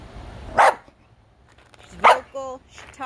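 A black dog gives two sharp, loud barks about a second and a half apart, the second followed by a short whining yip, close by with someone talking over it.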